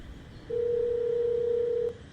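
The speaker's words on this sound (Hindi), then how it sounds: "फोन आया।" A single steady electronic phone tone sounds in the horror video game Withered Haven, holding for about a second and a half over a quiet, low background hum before stopping.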